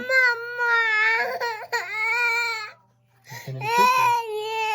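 An infant cries in long, wailing sobs, loud and close, pausing briefly for breath before another drawn-out cry, in a home setting.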